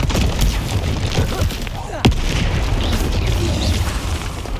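Fiery Incendio spell blasts from Hogwarts Legacy combat ring out in a dense, loud battle mix, with one sharp booming impact standing out midway over constant rumbling effects and a voice shouting spell names.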